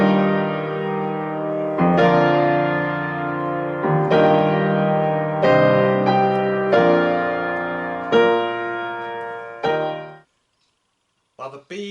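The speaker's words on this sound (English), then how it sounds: "So listen out for the A tune each time it appears. It sounds like this." The Promenade theme from Mussorgsky's Pictures at an Exhibition plays as a stately sequence of sustained, full chords in a steady rhythm, ending after about ten seconds in silence with faint stray sounds.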